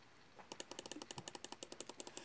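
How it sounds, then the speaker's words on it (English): A computer mouse is spam clicked, a fast steady run of faint, sharp clicks lasting about two seconds. "I am spam clicking it"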